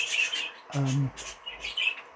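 A show bird in a show cage chirps in short bright bursts, close by, with a brief lower voiced sound in the middle.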